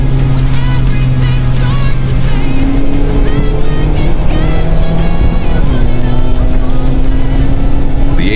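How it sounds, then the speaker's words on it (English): A Mazda MX-5 Roadster with an HKS exhaust, automatic in manual mode, pulls hard in second gear. The engine note climbs loudly in pitch, steps down at a shift, then rises again. "I drop it down to second gear and start accelerating."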